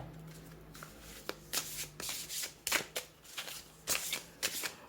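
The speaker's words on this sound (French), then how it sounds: "On va tirer une dernière carte." Tarot cards are shuffled close up in soft repeated riffles and rubbing strokes, a quiet rhythmic sequence with no voices.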